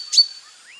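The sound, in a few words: cartoon character imitating a bulbul bird call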